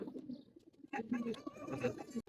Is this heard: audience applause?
no